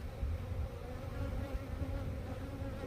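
Excited honeybees from a large colony drone steadily around an opened hive, a dense, continuous close buzz at moderate level with no voices.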